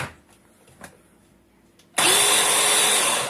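A kitchen mixer blending boiled-egg pudding switches on abruptly after a few faint knocks. It gives a loud, high, steady whir that lasts to the end.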